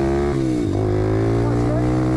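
An RFZ 125 cc motorcycle with a carburettor that won't hold its setting pulls away through the gears, its steady buzzing engine note dipping briefly at a shift before climbing again, loud and close.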